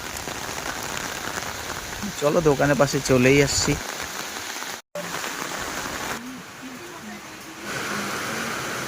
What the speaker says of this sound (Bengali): কালকে রাত থেকে বৃষ্টি চারিদিকে একদম জলই জল হয়ে গেছে এই জলই জল কি অবস্থা ঘর থেকে বেরোনো যায় না এরকম বৃষ্টি